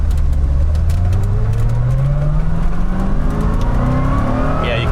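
A 1990 Chevy Corvette ZR1 engine pulls hard under throttle in its regular mode, a loud continuous roar whose pitch climbs steadily as the car accelerates, with no voices over it.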